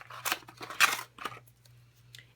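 Scissors trimming the ends of ribbon at a crafting table, a few quick close snips in a row, crisp and quiet against a faint steady hum.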